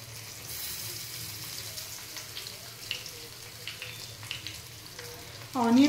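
Onions fry in hot oil with asafoetida for perugu pachadi, giving a continuous soft sizzle with light stirring taps, and a brief louder tonal sound at the very end.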